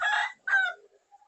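Rooster crowing on a fighting-cock farm, two close bursts of a harsh crow with a faint cluck trailing after, heard alone.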